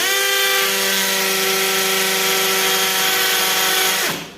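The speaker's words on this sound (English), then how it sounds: "Okay, so let's try drilling now. I change it to a faster speed." IBELL brushless cordless drill running at a faster speed setting, a loud steady high-pitched whine with strong harmonics lasting about four seconds before spinning down at the end; no speech.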